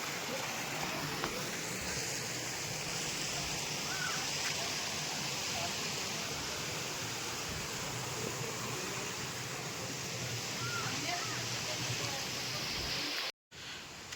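A spring-fed village stream after heavy rain rushes steadily and close by, a continuous broadband hiss that briefly cuts out near the end.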